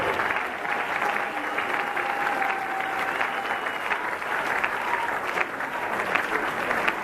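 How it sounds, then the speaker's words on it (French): A church congregation applauds at a pastor's funeral service, sustained dense clapping from a large crowd filling the room, with a faint voice underneath. "Acclamez s'il vous plaît."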